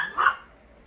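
A single short dog bark close by, sharp and clear, then quiet.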